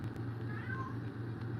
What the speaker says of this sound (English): None of my other cats really meow like that.